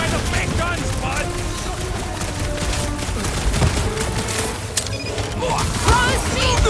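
Rapid bursts of gunfire from fake guns in Marvel's Guardians of the Galaxy video game, dense and continuous with occasional sharper impacts, mixed under character voices and game effects.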